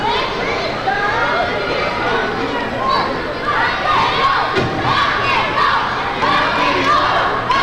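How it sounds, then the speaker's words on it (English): A wrestling crowd in Bainbridge roars and chants in unison for the Rock and Roll Express, a dense, loud wall of voices with no gaps. "The crowd here in Bainbridge beginning to chant rock and roll"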